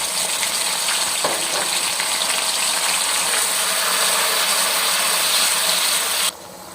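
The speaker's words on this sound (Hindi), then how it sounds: "उसके बाद हम इसमें टमाटर हैं कटे हुए ये डाल देंगे।" Chopped tomatoes drop into hot oil in a frying pan while cooking aloo matar pulao, giving a loud, steady broadband sizzle with a brief splattering burst near the start, then the sizzle cuts sharply quieter near the end; no talk.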